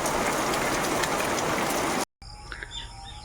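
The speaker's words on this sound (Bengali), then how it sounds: "ঝমঝম করে তখন বৃষ্টি হচ্ছিল" Heavy rain pours down in a dense, steady roar for about two seconds, then cuts abruptly to a quieter outdoor scene with faint bird chirps.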